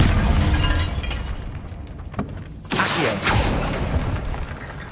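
Bombarda spell blast in Hogwarts Legacy, a loud rumbling burst with a sharp crack and shattering debris midway, set against dense game ambience, no talk.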